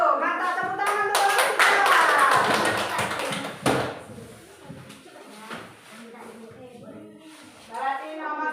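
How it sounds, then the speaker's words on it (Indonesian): A class group in a teacher-training session bursts into loud, dense clapping for a few seconds, then it fades and a voice carries on talking with a few stray claps underneath. "Mantap, tepuk tangan dulu."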